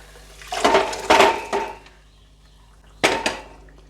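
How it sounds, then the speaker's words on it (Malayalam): Cooked white chickpeas tipped into a pan of chana curry, giving a few loud metallic clatters of pot and spoon in two bursts, a quiet pause between them. "ഇനി ഇതിലേക്ക് നമുക്ക് നമ്മൾ വേവിച്ച് വെച്ചിട്ടുള്ള കടല ആഡ് ചെയ്ത് കൊടുക്കാം കേട്ടോ."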